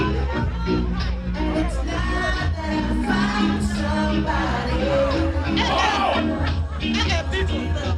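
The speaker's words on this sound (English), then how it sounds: "Crowd of people." Crowd of people at a birthday night party, a dense steady hubbub of overlapping voices with occasional whoops, close and loud throughout.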